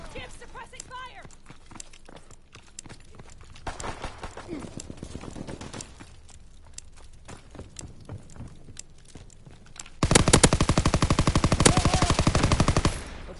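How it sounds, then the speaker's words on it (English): Call of Duty WWII gunfire crackles in scattered shots, then becomes a loud, rapid suppressing machine-gun burst over the last few seconds, with players talking earlier. "Give suppressing fire!"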